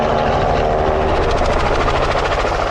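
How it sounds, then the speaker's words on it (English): A helicopter approaches, with a loud, close, continuous roar and a fast rhythmic chop of rotor blades throughout. "You can hear the chopper coming in"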